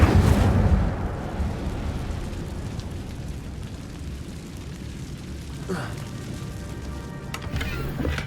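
The Incendio fire spell is cast in Hogwarts Legacy, giving a sudden whooshing burst at the start that settles into a low rumbling crackle of flames, with brief effect sounds near the end.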